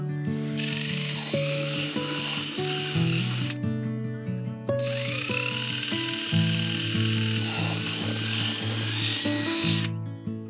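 A power drill whines steadily, then pauses, then runs again with a grinding, high-pitched buzz as it bores through a plastic bucket, loud and close.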